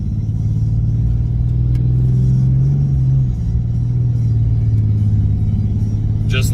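A Dodge truck driving in road gear, its engine giving a loud, steady low rumble from close by, rising slightly midway, with no talk over it.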